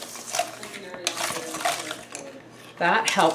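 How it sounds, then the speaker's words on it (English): A whisk purees canned pumpkin with sugar in a bowl, with repeated clinking and scraping against the bowl at close range and brief speech-like sounds in between. "Canned pumpkin is so easy to just drop in a bowl and puree with a whisk"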